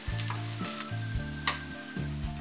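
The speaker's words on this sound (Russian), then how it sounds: "Так, поджаренный блинчик переворачиваю. Блинчики тонкие, жарится быстро" A thin whey pancake fries in a hot pan, sizzling softly with brief bursts and crackles at close range, in a short, quiet stretch with no talking.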